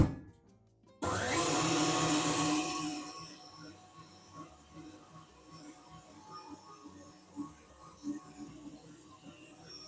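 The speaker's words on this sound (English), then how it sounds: "Let's just mix that in a medium speed" An electric mixer switches on with a sudden loud whir, blending pumpkin puree at medium speed, then settles into a steadier, softer hum with occasional knocks against the bowl.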